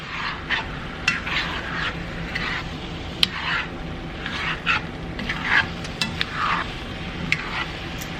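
Canned tomatoes, including a Great Value brand can, stirred in a cooking pot, giving a continuous wet scraping and sloshing with sharp clicks of the spoon against the pot, close and fairly loud, no talking.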